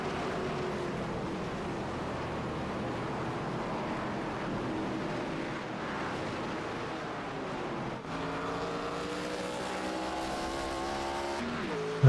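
Pace car circling Pocono in a sim racing game, with a steady engine drone running throughout and rising engine tones in the final seconds, no talk.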